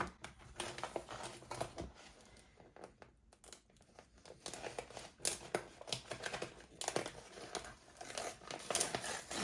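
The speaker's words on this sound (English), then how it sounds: "I'm gonna start peeling it back" Adhesive vinyl peeled back off its backing sheet for a chevron tumbler design, giving a stretch of close, crinkly tearing and crackling with uneven bursts and short pauses, and no speech.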